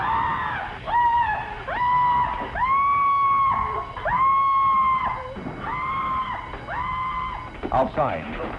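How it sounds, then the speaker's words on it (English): A woman cashier screams repeatedly in a vintage radio crime drama, a series of loud, sustained shrieks in bursts of about a second each, with a noisy background beneath them. "Outside, a Marine heard the cashier's screams."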